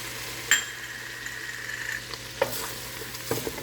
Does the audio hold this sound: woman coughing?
no